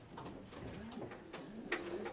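Racing pigeons coo steadily in a loft, several low rolling calls overlapping close by over soft rustling, with no talk.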